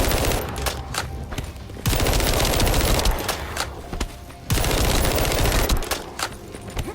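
Rapid automatic gunfire from a shooter in The First Descendant, loud and dense bursts with brief breaks between volleys, heard up close with no talking.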